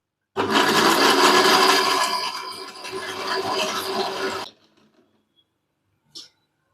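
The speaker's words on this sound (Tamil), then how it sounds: "இப்போ வந்து நம்ம இந்த கப்பியை விட்டு அரைச்சிக்கணும்" An electric kitchen grinder whirs loudly and steadily as it grinds appam batter for about four seconds, then cuts off into near silence, followed by one brief faint click.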